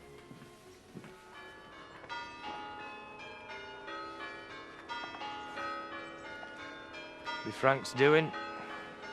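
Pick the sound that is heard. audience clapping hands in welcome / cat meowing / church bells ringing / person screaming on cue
church bells ringing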